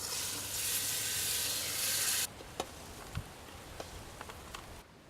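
Largemouth bass frying in a pan with tomatoes, flour and seasoning, a loud steady sizzle that cuts off abruptly, leaving scattered soft crackles and pops.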